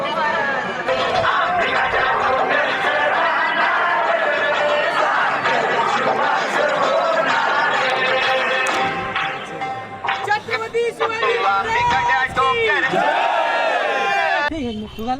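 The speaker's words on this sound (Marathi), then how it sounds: "खूप गर्दी आहे खूप." Dense crowd babble from a large gathering at Raigad fort during the Shivrajyabhishek ceremony, many overlapping voices and shouts close by, continuous throughout.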